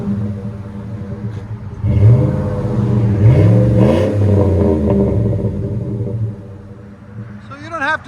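A 2008 GMC Sierra 4.8L V8 with a Flowmaster 40 Series dual exhaust revs up from a steady rumbling idle, holding a deep, loud, close drone for several seconds before settling back down.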